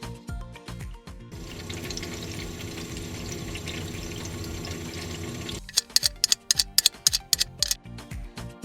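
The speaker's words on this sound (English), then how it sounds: "operational activities of the fridge can sometimes produce a boiling or gurgling sound" Refrigerator refrigerant running through the coils, a sustained gurgling, flowing wash that gives way to a run of sharp, irregular ticks and clicks, close and moderately loud with no voices.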